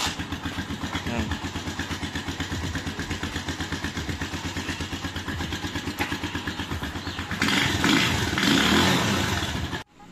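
A Rusi Macho TC-175 motorcycle engine runs close by with a steady, rapid pulsing beat, then revs louder near the end before cutting off abruptly. Voices can be heard over the engine.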